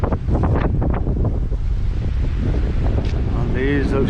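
Ocean surf at Senggigi beach on Lombok, a wash of waves heavily buffeted by wind on the microphone, with faint voices and a brief high chirping near the end.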